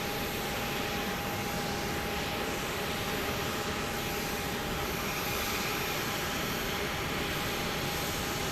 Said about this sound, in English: we do have this Global 6500 Bombardier coming in